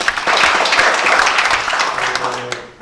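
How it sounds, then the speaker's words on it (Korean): Loud, dense applause from a seated audience at a joint symposium on reducing everyday carbon emissions, many hands clapping steadily before the sound tapers off toward the end. "박수 한번 쳐주시고"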